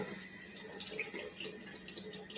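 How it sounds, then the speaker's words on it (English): Tap water runs steadily into a kitchen sink as hands are rinsed clean of raw shrimp while potstickers are being made from scratch, a continuous close splashing hiss with no talk. "now I gotta really rinse my hands off because I'm touching raw shrimp"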